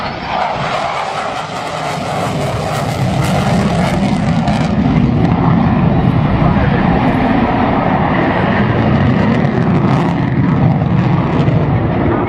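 An enormous plane banks through a tight turn, its loud, continuous roaring engine noise swelling slightly and holding steady at full strength throughout.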